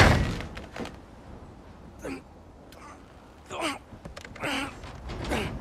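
A frozen door creaks and groans as it is forced open in God of War Ragnarok, a series of strained creaks and thunks spread out over several seconds, with effortful grunts between them.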